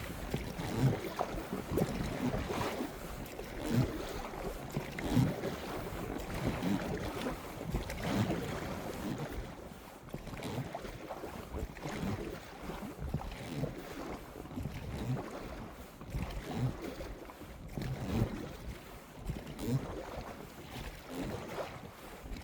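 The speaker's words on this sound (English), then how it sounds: "Despite rowing the boat downstream, it felt like rowing upstream." A boat rows downstream on the Daugava river in Latvia. Water noise and heavy wind buffeting on the microphone run continuously, with uneven surges but no clear stroke rhythm.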